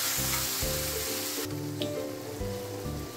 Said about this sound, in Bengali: মশলাটা এবার কষে নেব